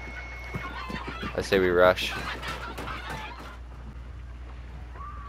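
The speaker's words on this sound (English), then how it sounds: "Crows over there. They just flew from over there." Crows cawing and flapping off in the Hunt: Showdown video game, a brief, fairly loud raspy burst in the middle, with a player talking around it.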